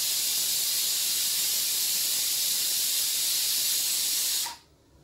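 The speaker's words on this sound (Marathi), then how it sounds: "कुकरची शिट्टी होते." A pressure cooker whistle vents steam in a long, loud, steady hiss while dal cooks, running for several seconds before cutting off abruptly near the end.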